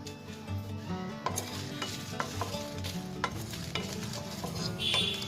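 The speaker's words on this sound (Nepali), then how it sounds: "हामी 30 सेकेन्डसम्म एकदमै लो फ्लेममा यसरी भुट्छौँ" Cumin and coriander seeds sizzle and crackle in a hot pan on very low flame while a spoon stirs and scrapes steadily, close up with no talking.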